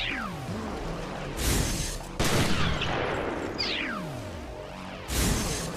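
Gunfire from the survival horror game Resident Evil Revelations, with several sharp shots and bursts spread across the moment, along with whooshing sweeps and crashing impacts, and no one talking.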